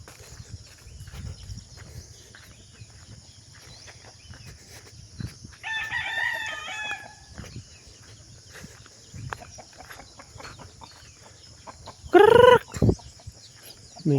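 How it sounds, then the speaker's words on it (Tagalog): Chickens on a farm cluck and stir against a low background. A rooster crows once in the middle, and a louder, closer crow or squawk breaks out near the end. "Dito na kayo mga manok natin."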